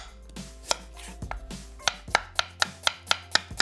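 A knife slices onions thinly on a cutting board, with about a dozen crisp, evenly spaced chops that speed into a steady rhythm, loud and close, no talking.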